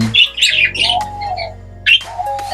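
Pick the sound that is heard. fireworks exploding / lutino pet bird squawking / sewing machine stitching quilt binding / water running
lutino pet bird squawking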